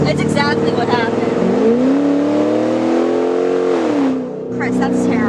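A pickup truck with a loud modified exhaust revs hard and close, climbing to a sustained drone, then drops away. People speak over the revving.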